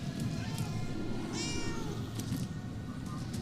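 A cat meows in the video game Murdered: Soul Suspect, one clear harmonic meow near the middle, heard over a steady background hum.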